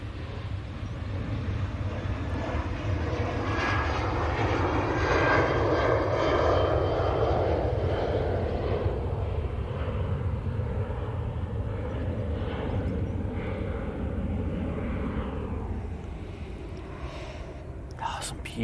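An Etihad airliner's engines roar steadily and loudly throughout, a broad continuous jet rumble with faint voices murmuring underneath.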